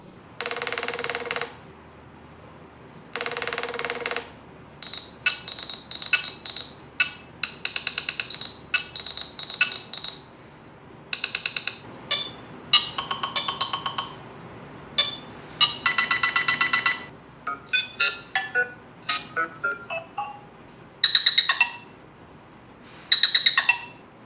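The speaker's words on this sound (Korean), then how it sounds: "내가 진짜 제일 마음에 들었던 거는 사실 벨소리야." The Nothing Phone (1) ringtone plays alone with no voices: a series of bright, chirpy electronic bursts, some with high sustained tones, arriving in uneven groups and sounding loud and close.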